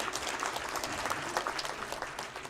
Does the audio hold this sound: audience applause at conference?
yes